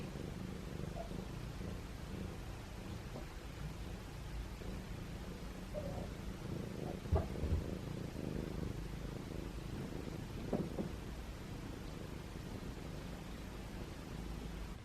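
A cat purrs softly and continuously close by indoors, a low steady rumble under faint background hiss, with a few small rustles and bumps.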